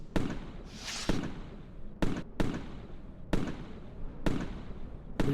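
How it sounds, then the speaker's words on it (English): Fireworks in the video game Microsoft Flight Simulator 2020, heard from a hot air balloon: a series of sharp, loud bangs spaced about a second apart, each trailing off into a crackling fizz. "We just flew straight through the fireworks."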